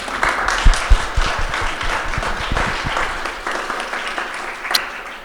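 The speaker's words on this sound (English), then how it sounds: "quick round of applause for all the debaters" An audience claps for the debaters at an AI and design talk, a dense burst of applause that stays steady and loud before gradually thinning out.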